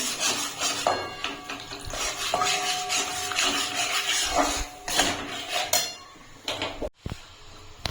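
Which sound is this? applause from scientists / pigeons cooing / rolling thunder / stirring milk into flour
stirring milk into flour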